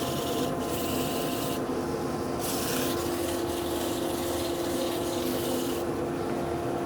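Wood being sanded with 240 grit abrasive while shaping chopsticks or a rice bowl, a steady rubbing hiss in several strokes that swell and drop, close and alone over a low hum.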